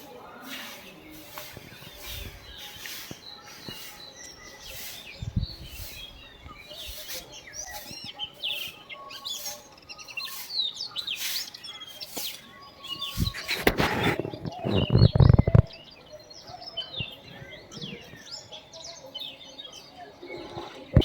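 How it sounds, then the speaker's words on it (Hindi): Small birds chirp and twitter on a village morning, scattered tweets from moderate distance over a low outdoor hum, with a few louder bumps and rustles partway through. "चिड़िया चहक रही हैं,"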